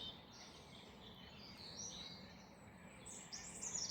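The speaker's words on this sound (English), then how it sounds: "one of the things that's very noticeable is the birds" Birds calling in the twilight of dawn out in nature, several chirps and whistles scattered across a steady soft background, fairly faint and distant, growing slightly louder toward the end with no voices.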